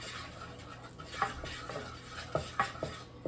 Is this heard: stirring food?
yes